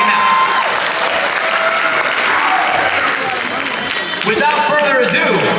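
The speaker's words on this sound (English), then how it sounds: "let's give a round of applause to everybody sitting in these seats right now" Audience applause fills a room at an Anime Pasadena 2022 Death Note panel, steady dense clapping from a crowd lasting throughout, loud and sustained with some cheering mixed in.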